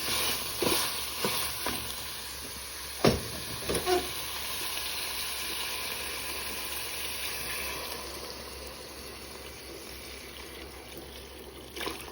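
Water is poured into a hot cooking pot on a home stove while dal is being made, giving a steady, moderately faint sizzle and hiss, with a few clinks and splashes near the start.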